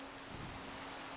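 Steady rain falls in the video game Die Insel III, an even, hissing wash of sound with no breaks and no voices.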